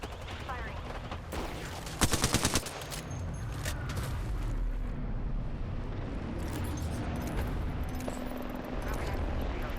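Apex Legends gunfire, with a tight burst of rapid automatic shots around two seconds in, followed by continuous loud in-game combat noise and scattered distant shots.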